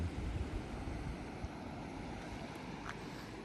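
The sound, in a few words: ocean waves at Little Hawaii, Siargao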